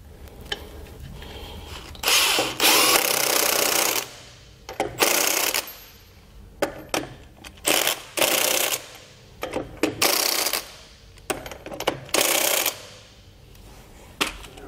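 A power tool tightens lug nuts onto a trailer wheel in repeated loud whirring bursts, each a second or two long, separated by brief quiet gaps and small metallic clicks.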